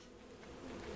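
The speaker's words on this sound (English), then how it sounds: "Bees, right where you need to go." Bees buzzing in the video game Lethal Company, a steady, dense drone that swells slightly over one brief moment, heard alone without talk.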